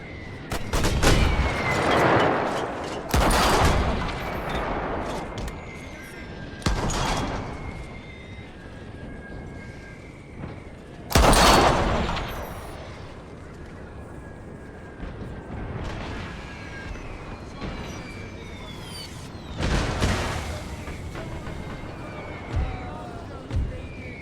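Artillery and mortar fire in a strategy war game: several heavy booming blasts arrive at irregular intervals, each followed by rumbling decay, with quieter gunfire and battlefield noise between them and occasional voices.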